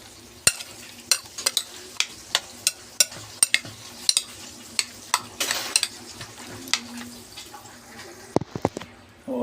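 A utensil stirs fish kilawin with onion, ginger and chili in a bowl, giving a series of regular, crisp scraping and tapping strokes close by, fairly quiet, with no talk.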